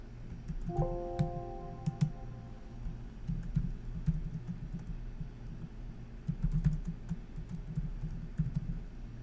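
Keyboard typing in a PowerPoint session, a steady run of soft, close clicks and taps going on for several seconds over a low room hum, with a brief tonal chime near the start.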